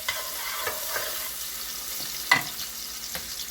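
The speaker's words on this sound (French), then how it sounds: "mon huile est chaude, je verse mes oignons et je laisse devenir transparent mes oignons." Onions sizzle in hot oil for a biryani, a soft steady frying hiss with faint stirring and utensil taps, fairly quiet and close.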